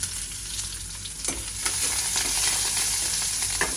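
Soaked soya meat sautés in a hot pan, giving a steady loud sizzle and frying hiss with occasional stirring scrapes, with no voices.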